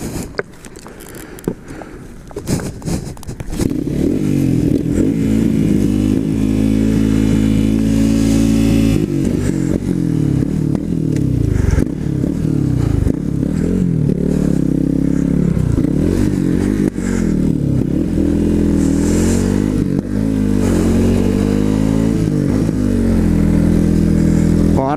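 Yamaha TT 350 motorcycle engine starting after a few clattering attempts, then idling steadily and loudly close by with repeated throttle blips.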